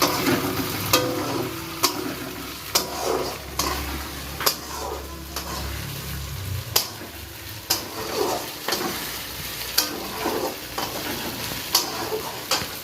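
Pieces frying lightly in a pan for khichuri made with Gobindobhog rice, a steady close sizzle broken by regular sharp ticks and scrapes of stirring, with no talking.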